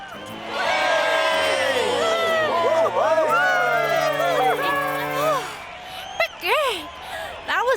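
A cartoon crowd cheers and whoops for Olive's bike stunt, with excited voices rising together and then a few scattered shouts.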